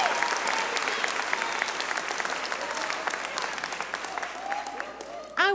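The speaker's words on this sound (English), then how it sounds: "I'm going to applaud you too." An audience claps throughout at a college commencement ceremony, a steady wash of applause that gradually thins toward the end before a voice returns over the sound system.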